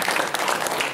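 An audience at a cycling club meeting applauding volunteers, a brief, dense burst of steady clapping from a roomful of people.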